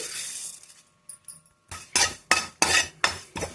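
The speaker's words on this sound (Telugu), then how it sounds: "జీలకర్ర వేయించుకోవాలండి" Dry coriander and cumin seeds being roasted in a pan for curry leaf spice powder, heard as a quiet start followed by five loud, rhythmic bursts of rattling and scraping as the seeds are stirred and tossed, with no talk.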